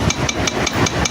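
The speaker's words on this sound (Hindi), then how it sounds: "आपको प्यार के साथ हल्की हल्की चोट लगानी है इस पर," A hammer tapping lightly on a balancer gear during a Yamaha FZ motorcycle engine repair, about six quick, evenly spaced metallic taps close up.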